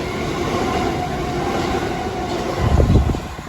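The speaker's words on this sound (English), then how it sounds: "now approaching is the delayed 1230 southeastern service from London Charing Cross to Ramsgate" Southeastern passenger train approaching Thanet Parkway station, a steady rumble and rolling wheel noise close by that swells into heavier low thumps near the end, with no talk.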